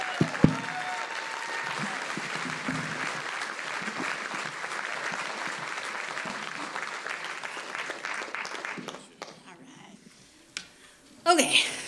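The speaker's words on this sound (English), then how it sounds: "Let's give a nice round of applause for Melissa Buchta." Audience applause at a storytelling event, a loud sustained burst of clapping from a crowd lasting several seconds before fading out, followed by a brief quieter stretch and a few scattered noises.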